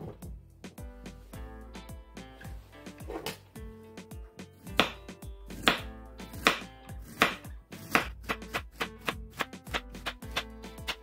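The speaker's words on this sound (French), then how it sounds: "Je vais les découper." Steady knife strokes chop peeled pears on a cutting board, crisp close thuds in an irregular but continuous rhythm, growing sharper and louder toward the end, with no talking.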